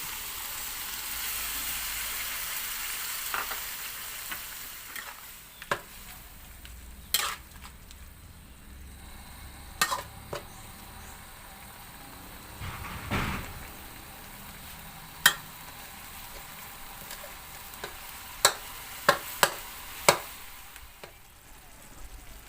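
Tomatoes stir-fried in a pan for a Thai nam prik ong chili dip, a steady sizzle with scraping stirs and sharp clinks of a utensil against the pan, close and alone.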